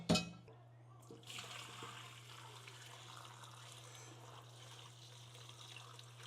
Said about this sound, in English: So I'm gonna go ahead and strain this in the sink